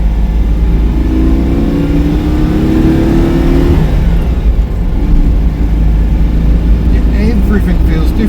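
A Citroën 2CV's small engine drones loudly and continuously while driving on a road trip, with a rising and falling pitch through gear changes, partly under a person talking.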